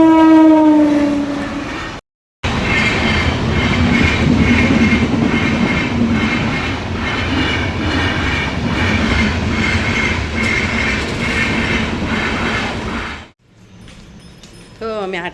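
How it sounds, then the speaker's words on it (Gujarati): A train passing a railway crossing, loud and close: a horn blast opens, then a steady rumbling clatter of wagons rolls on for several seconds before cutting off abruptly. "અમે છે ને અહીંયા રેલવે ક્રોસિંગ પર ઊભા છીએ"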